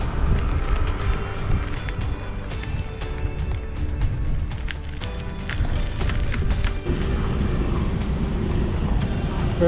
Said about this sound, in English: This ferry boat's called Divan.